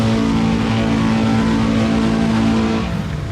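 A Honda Integra at a test-and-tune drag strip drives by with a loud, steady engine drone that holds close and then eases off slightly as it moves away, with no voices.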